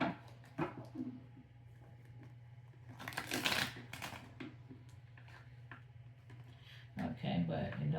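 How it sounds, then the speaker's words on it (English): Tarot cards being shuffled close up, in soft papery riffles and slaps with a burst of rapid flutters partway through, all quiet over a low steady hum. "shuffle real quick."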